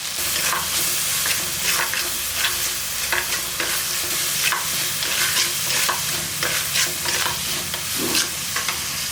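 Tomato and onion sautéing in a pan while a spoon stirs, a steady sizzle with repeated scraping strokes throughout, close and fairly loud with no talking.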